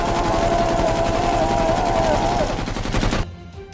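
Rapid machine-gun fire in a Filipino aswang horror audio drama, a loud continuous burst of dense repeated shots lasting about three seconds before cutting abruptly to near silence.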